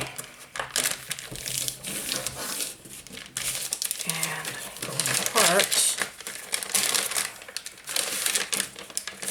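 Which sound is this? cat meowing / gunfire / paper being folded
paper being folded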